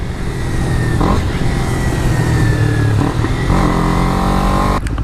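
Small Honda Grom 125cc single-cylinder fuel-injected pit bikes ride together on a canyon road, a steady loud engine drone with shifting pitch and brief throttle changes throughout.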